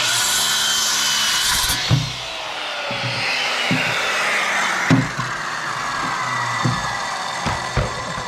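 A power saw cuts through a support while rocky land is cleared for a concrete pad, a sustained grinding whine that shifts in pitch, broken by several sharp knocks as the blade bites and the piece shifts.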